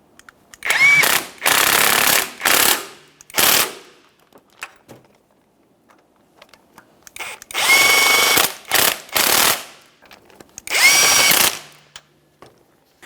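An impact power tool runs on the transmission mount nuts of a 2012–2015 Honda Civic 1.8L, in loud close bursts of whirring and hammering with quiet gaps between them.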